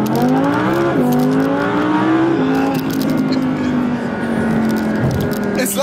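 A low-slung supercar with its exhaust button engaged accelerates hard, engine note climbing through rising revs with a brief shift dip, loud and close from inside the cabin.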